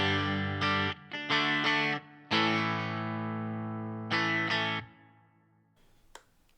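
A finished, home-built Stratocaster electric guitar plays distorted chords through its bridge pickup with the tone control full up, several sharp strums and one long sustained chord ringing out before the last chord fades.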